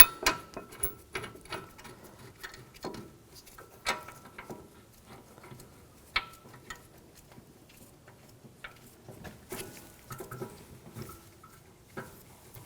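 Brake bracket bolts are started and tightened on a 2021-2023 Jeep Grand Cherokee L, heard as faint scattered metallic clicks, ratcheting ticks and small tool knocks in a quiet workspace.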